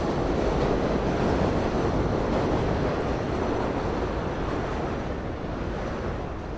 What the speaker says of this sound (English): This is the newly renovated Broadway subway station at 31st Street.